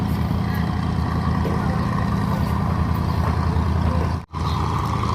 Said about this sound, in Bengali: এই বড় বড় এই যে বালুটানার নৌকাগুলা যাচ্ছে।